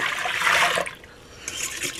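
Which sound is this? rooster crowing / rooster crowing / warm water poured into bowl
warm water poured into bowl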